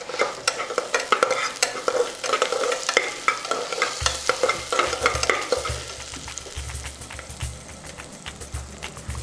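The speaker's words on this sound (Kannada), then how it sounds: "ಸೊ ಈಗ ಇದಕ್ಕೊಂದು ಚೂರು ಉಪ್ಪು ಹಾಕೋತೀನಿ, ಚೂರೇ ಚೂರು. ಚಿಟ್ಟಿಗೆ. ಸೊ ಈರುಳ್ಳಿ ಸ್ವಲ್ಪ ಬೇಗ ಕುಕ್ ಆಗುತ್ತೆ." Onions with a pinch of salt frying in a pan, a spatula stirring and scraping in rapid, uneven strokes over a constant sizzle, with a low hum coming in partway through.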